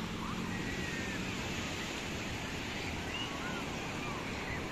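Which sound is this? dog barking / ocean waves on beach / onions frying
ocean waves on beach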